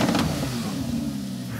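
A loud tuned car passes at a car meet with a deep, rumbling engine note that swells briefly and then settles into a steady growl, close by and with no talk over it.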